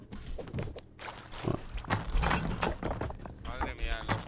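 Pig grunts and oinks from the survival game Rust, mixed with game sounds such as footsteps and thuds, while Spanish-speaking players talk over them throughout.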